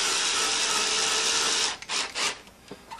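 A power drill drives a screw into a leather stirrup piece on a saddle kit, a steady loud whir for a second and a half, then short stuttering bursts as the screw seats.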